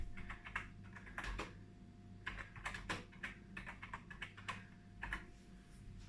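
Keys are typed on the full-size C64 computer keyboard in quick bursts and pauses, close and fairly quiet over a low steady hum, with no talk.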